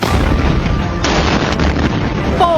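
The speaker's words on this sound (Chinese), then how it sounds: "在滅火過程中，現場多次發生劇烈爆炸" Violent explosions at a night fire in Annan District, Tainan, Taiwan, where aluminium stock, waste oil drums and magnesium burned, make a loud, continuous roaring rumble broken by sharp cracks and heavy bangs throughout.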